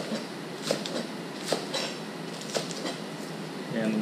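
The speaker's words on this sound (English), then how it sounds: "I'm gonna chop them up about 1 inch long" Green onions being chopped into inch-long pieces with a knife on a cutting board for braised mackerel, a few spaced sharp knife taps against steady faint background hiss.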